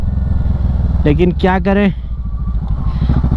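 A Kawasaki motorcycle engine rumbles steadily while riding a rough mountain route near Leh, with a rider talking briefly over the continuous engine drone.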